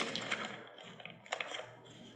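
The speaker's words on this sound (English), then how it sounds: "I'm trying to put all that in writing and typing it up" Irregular clicks of typing on a computer keyboard in a meeting room, light taps in small bursts against a quiet background, fairly near.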